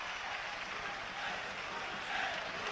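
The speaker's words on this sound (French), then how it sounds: "encouragé par la foule, qui scande son nom" A boxing arena crowd roars and chants a fighter's name, Jean-Claude Bouttier, as a steady dense wash of voices and cheering that holds at an even level throughout.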